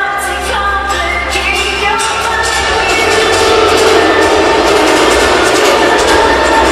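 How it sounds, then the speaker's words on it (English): A wrestling crowd at a homecoming show roars with loud, sustained booing that swells and stays dense throughout, a thick wall of voices close and enveloping. "Deafening boos from the crowd"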